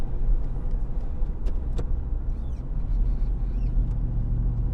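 Pontiac Fiero fitted with a crate V8 engine driving along, a steady loud low engine drone with road rumble throughout, no talking.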